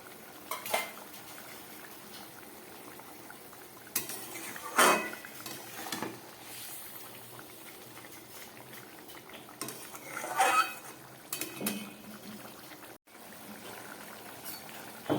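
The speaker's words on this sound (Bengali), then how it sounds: "আর দিয়ে দিচ্ছে ভেজে রাখা বেগুনটা" Fried eggplant goes into a bubbling fish curry in a pan, with clattering utensil scrapes and clinks against the pan over a soft simmer, in bursts separated by quieter stretches.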